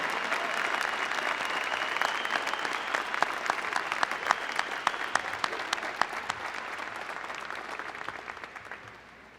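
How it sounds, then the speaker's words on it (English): A high school graduation audience claps steadily through the whole stretch, a dense wash of many hands with sharper individual claps standing out, sustained and fairly even before easing slightly at the end. "let's have a nice round of applause for our 2011 valedictorians"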